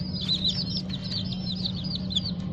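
A hen with her ten chicks makes a constant stream of high, overlapping peeping from the chicks over a low steady hum, heard close.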